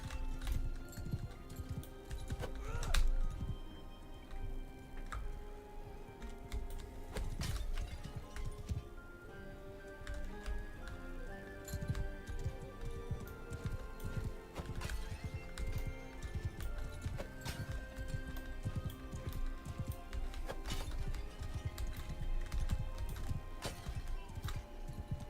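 Horse hooves in Mount and Blade 2: Bannerlord clatter in a steady galloping rhythm under continuous background game sounds, with occasional louder thumps across the stretch.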